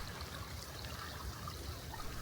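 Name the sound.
flowing creek in a shady forest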